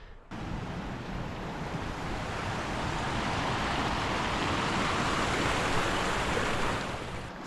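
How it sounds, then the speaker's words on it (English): A small mountain stream on a trail to Rakaposhi base camp in Pakistan rushes steadily, a dense close wash of flowing water with no voices. "There's a nice little stream down here"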